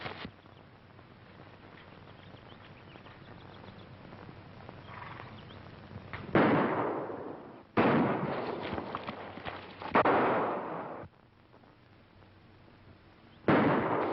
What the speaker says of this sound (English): He's shooting it out.